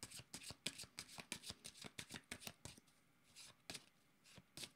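Tarot cards are shuffled close by in quick, crisp riffling bursts, a steady run of rapid flutters broken by a short pause, faint and with no talking.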